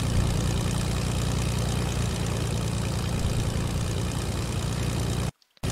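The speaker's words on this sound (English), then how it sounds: "I heard a plane, I don't know where it went." An aircraft, an X-Wing in the Fortnite video game, drones steadily with a loud, continuous low engine hum and broadband roar, briefly cutting out near the end.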